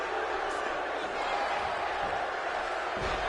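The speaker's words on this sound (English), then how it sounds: "The crowd got pretty high for that move" Crowd noise in the WWE 2K17 wrestling game: a steady, broad arena roar holding at moderate level throughout, with a couple of faint thuds rising under it.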